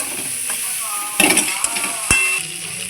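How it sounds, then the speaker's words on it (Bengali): Cauliflower fries with turmeric powder in a pan while it is stirred, producing a steady loud sizzle broken by close scraping and clanking of the spoon. "এখন আমি হলুদ গুঁড়ো একটু দিয়ে দিচ্ছি দিয়ে ওটাও একটু ভালো করে নেড়ে নেব"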